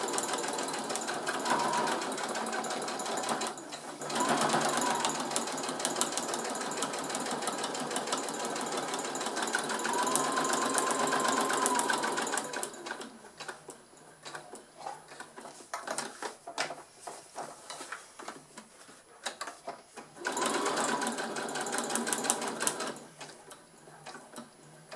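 A sewing machine stitches a multi-purpose fabric pouch, running in steady motorized bursts with short pauses between seams, then a longer quieter stretch before starting again near the end.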